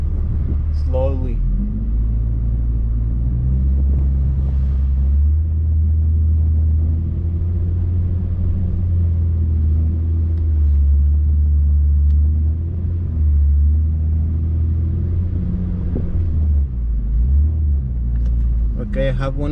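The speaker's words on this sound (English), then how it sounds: "Okay, I have one of the wheels spinning." A Honda Ridgeline in reverse with VTM-4 lock engaged and stability control off drones with a deep, steady engine rumble while one wheel spins, the revs rising and falling slightly; a voice is heard briefly at the start and end.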